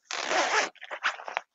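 A zipper on an Osprey Xena 70 hiking backpack zips in one long, loud, close rasp, followed by several shorter, choppier zipping pulls.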